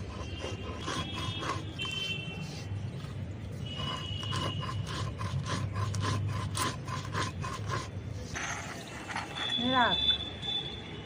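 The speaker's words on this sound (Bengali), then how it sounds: "আমি শিলে গুঁড়ো করছি" Spices for chaat masala being ground by hand on a sil stone, a steady run of rasping, rubbing grinding strokes, close and continuous, with a voice and a brief high chirping sound toward the end.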